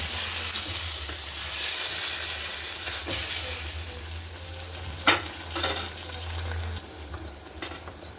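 Tomatoes and spinach cooking in a pan for a palak tomato curry, with a soft steady sizzle and a few scraping stirs of the spoon close by, with no voices.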